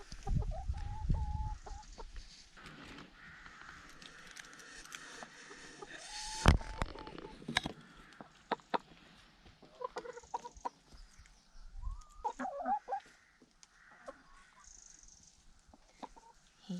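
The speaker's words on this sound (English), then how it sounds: "I'm going to go and see the chickens because I've got some scraps for them" Backyard smallholding hens cluck softly at moderate distance, scattered bursts over a quiet garden background with occasional rustles and knocks.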